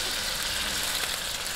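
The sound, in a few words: chicken sautéing in a pan for sotanghon soup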